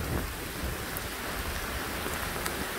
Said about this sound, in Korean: 어우, 천둥 번개가 칩니다.